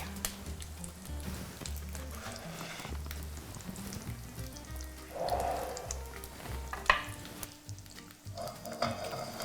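An egg fries steadily in a pan, seasoned with salt and pepper, giving a continuous close sizzle with faint crackles and a couple of brief clinks.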